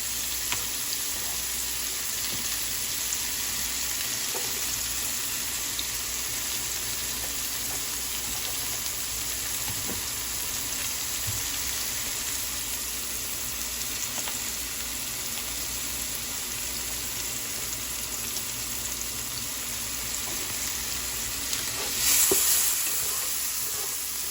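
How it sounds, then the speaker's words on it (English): Onions frying in a pan, a steady close sizzle holding evenly throughout with faint occasional ticks and stirring scrapes, no talking. "What you want to do with these is you want to basically cook them down until they're fragrant."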